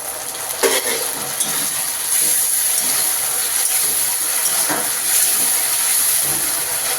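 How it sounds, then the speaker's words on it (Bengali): Ginger garlic paste added to fried onions sizzles loudly and steadily in the pan, a continuous close hiss with occasional stirring scrapes and no talk. "এবার আমরা আদা আর রসুন বাটা দিয়ে দিচ্ছি"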